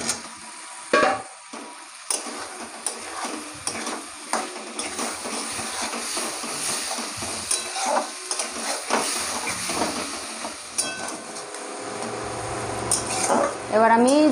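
Fried potatoes are tossed into spice masala in a pan, with a gentle sizzle under repeated scraping and clinking of a metal spoon against the pan.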